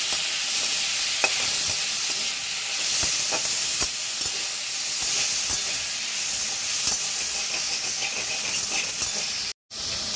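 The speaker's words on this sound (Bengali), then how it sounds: "চিকেনটা আমি মিডিয়াম আঁচে করে ভাজছি।" Chicken sizzles steadily in a pan on medium heat, fried up for restaurant-style mixed fried rice. The crackling is close and continuous, with a brief drop to silence near the end.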